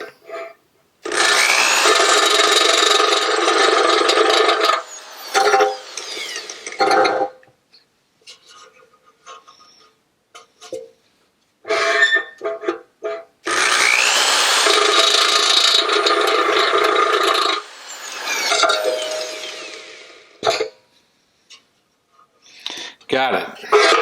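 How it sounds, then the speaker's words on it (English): Small metal parts being deburred by hand, a tool rasping around hole edges in two long loud bursts with shorter scraping strokes between, and a voice talking in the gaps. "So I got a couple more holes to deburr."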